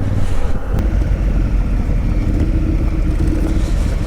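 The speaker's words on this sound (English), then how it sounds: "this is the first time I'm going on a long ride on my new Honda Africa Twin" A Honda Africa Twin motorcycle rides along, its engine droning steadily and loudly throughout while heavy wind buffets the microphone.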